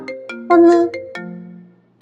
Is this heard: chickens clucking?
no